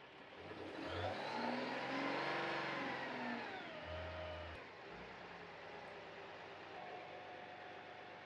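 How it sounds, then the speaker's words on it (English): A truck engine fitted with a VMAC underhood air compressor climbs in RPM to charge the air receiver tank, a faint rising engine whine that swells, holds, then eases back to a steady idle-like drone. "the RPMs on the truck will increase to charge your air receiver tank."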